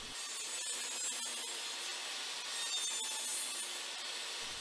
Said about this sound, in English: I'm going to move this whole thing over to the table saw to do the basic shaping of the neck